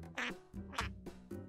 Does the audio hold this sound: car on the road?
no